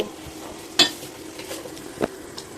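A spoon works gram flour as sugar syrup is poured in for Andhra-style Mysore pak. A few sharp scrapes and taps stand out over a faint, low sizzling hiss.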